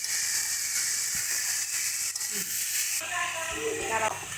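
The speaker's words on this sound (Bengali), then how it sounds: "এবারে ভালো করে সমস্ত মশলা আমরা খুব সুন্দর করে ভালো করে এই নুটুলি আর আলুর সঙ্গে ভালো করে কষিয়ে নেব" Spices, vegetables and potatoes stir-fried together in a pan for a Bengali prawn dish, giving a steady close sizzle and hiss with occasional scrapes and stirring clatter throughout.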